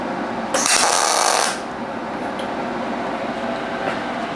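A MIG welder laying a bead on a steel V block gives a loud, harsh crackling burst of about a second, then falls back to a quieter steady hum.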